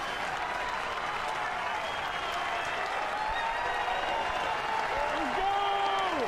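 Crowd at a college baseball stadium during an NCAA tournament regional final between Kentucky and Indiana, applauding and cheering for a strikeout in a steady roar, with whistles rising over it and an announcer talking over the noise.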